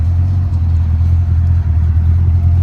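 A 1970 Ford Torino GT with a 302 V8 and automatic transmission rumbles loudly and close, a deep steady engine note with slight pulsing throughout, no voices.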